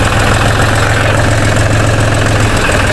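A Mahindra tractor engine idles close by, a loud, steady low rumble with a regular pulsing throb and faint knocking that runs unbroken from start to finish, with nobody talking.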